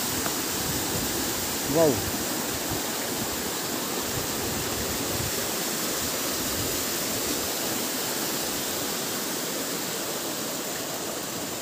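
A low, steady stream of water flows in a broad constant wash of noise. A voice briefly exclaims early on.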